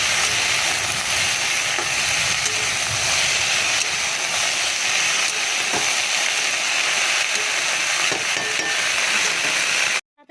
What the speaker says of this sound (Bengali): এখন আমি এটা একটু নাড়াচাড়া দিয়ে নিই